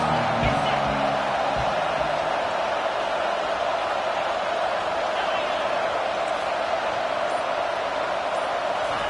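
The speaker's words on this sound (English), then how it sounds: "This crowd trying to make life miserable for this offense." Stadium crowd noise from the NCAA 25 college football video game, a steady dense roar filling the whole stretch with a commentator talking over it.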